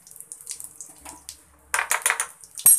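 Cumin seeds and a pinch of asafoetida hit hot oil while cooking moong dal bade curry, bursting into a loud crackling sizzle after quieter background noise, with a sharp pop at the end.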